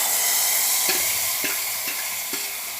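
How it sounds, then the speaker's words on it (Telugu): Cumin seeds sizzling in hot oil for the tempering of horse gram soup: a steady, bright frying hiss fills the clip, with a few soft clicks and taps of a spoon stirring in the pan. "అది జీలకర్ర కూడా వేస్తున్నానండి, కొంచెం లైట్గా."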